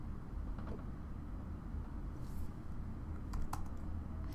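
A few faint keyboard keystrokes as a command is typed on a computer, sparse clicks near the end under a steady low background rumble.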